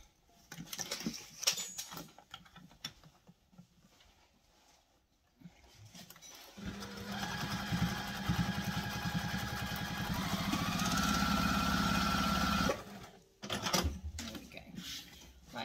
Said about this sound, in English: do a quick base stitch around the outside to keep the layers together.